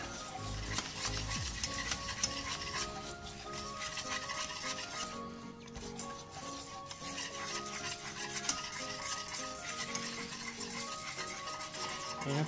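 Butter and flour roux cooking gently in a pan for a béchamel, a steady soft sizzle with continuous scraping and stirring strokes throughout, no voices.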